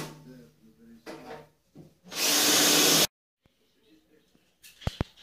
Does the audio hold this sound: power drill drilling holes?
yes